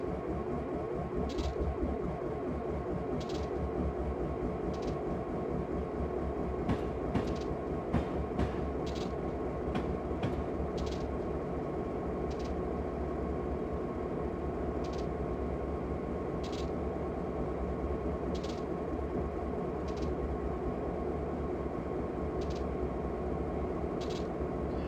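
An NS GP38 diesel locomotive runs steadily in the Train Simulator game on the Bergen Line at Croxton, with a continuous loud engine drone and rumble and faint periodic clicks throughout, and no speech.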